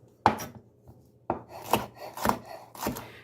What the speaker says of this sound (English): you always want to cut peppers skin side down, because the knife can bounce off of the pepper